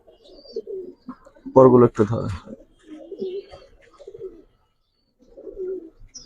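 Pigeons from a new collection coo softly in short phrases, with a person speaking briefly and louder in the middle.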